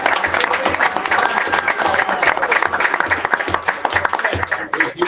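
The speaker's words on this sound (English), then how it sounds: "Huge round of applause" Steady, dense audience applause fills a school district board meeting room, loud and continuous, with some voices mixed into the clapping.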